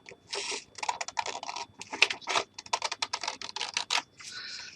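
Scissors snip through a decorated paper envelope with a mushroom print, cutting it down for a matching double pocket: a quick run of crisp, close cutting bursts in uneven rhythm, with brief pauses, and no talking.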